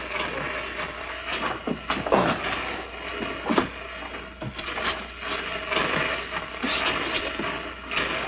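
A train runs on rails with a steady rumbling roll, punctuated by irregular clattering knocks and bumps at moderate loudness.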